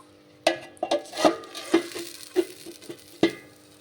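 A spoon clinks and scrapes in a pan of taro and potato curry with prawns just after water is added. The stirring knocks come close and irregular, with a faint sizzle underneath.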